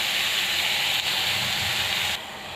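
Vegetables sautéing with rock salt in a hot pan, giving a steady broad sizzling hiss that holds evenly and drops slightly near the end, with no one talking over it.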